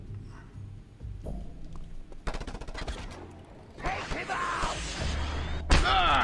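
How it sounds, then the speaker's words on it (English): Weapon fire in Just Cause 2, including a heat-seeking rocket launcher: a run of loud, bursting gunshot-like blasts and thuds that build into dense, sustained explosive noise toward the end, with brief talk mixed in. "It was a heat-seeking rocket launcher that got into me."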